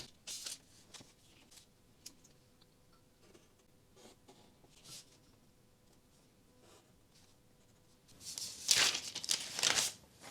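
Tracing paper rustles and crinkles as it is shifted over a sewing pattern for a basic bodice, with faint scattered handling sounds building to a louder burst of crisp crackling near the end.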